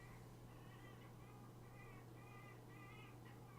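Birds call repeatedly in short harmonic phrases outside a window, faint and distant, over a constant low hum.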